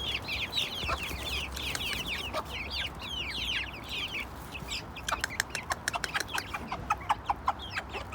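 Several chickens cluck and chatter close by, busy overlapping calls, then a run of quick sharp clucks near the end, with no talking.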